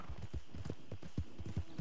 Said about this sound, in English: Don't walk in front of my horse.